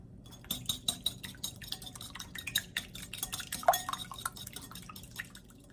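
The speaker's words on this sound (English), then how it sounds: "So you've got your egg and your 2 tablespoons of milk. You're going to whisk it together." A whisk beats egg and milk together in a bowl, making quick, close, light clicking taps against the sides in a rapid irregular rhythm, fairly faint with no talking.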